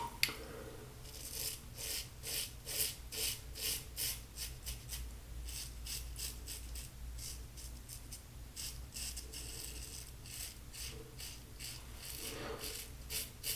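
Close, rhythmic scraping of a razor through soap lather in repeated short strokes, with a few quiet pauses between passes.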